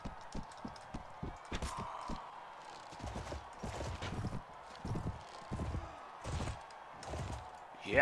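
Horse hooves pounding at a gallop in the video game Mount & Blade: Warband, a fast irregular clopping close by with combat clatter and thumps mixed in, no talk over it.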